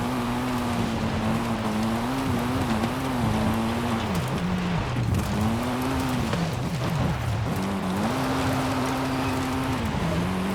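A 720 hp Mitsubishi EVO III rally car in Forza Horizon 5 drives off-road with a steady, loud engine drone that rises and falls as it revs and shifts across the whole stretch, with gravel and road noise underneath and no talk.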